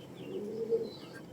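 Soft, low cooing from a high-flyer pigeon, a murmuring throaty call rising slightly near the middle, fairly close with a faint background hiss.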